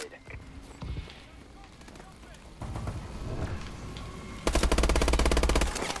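Gunfire in Call of Duty Advanced Warfare: scattered shots give way to a loud, rapid machine-gun burst at the end, with game effects and some talk underneath.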